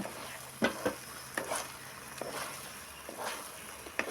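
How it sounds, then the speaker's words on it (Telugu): A spoon stirs thick Karachi halwa in a pan after almonds, raisins and other dry fruits go in. Several distinct scrapes and taps sit over a faint, quiet sizzle, close by and unhurried. "వేసుకున్నాక ఒకసారి కలుపుకుందాము అవన్నీ బాగా పట్టుకుంటాయి"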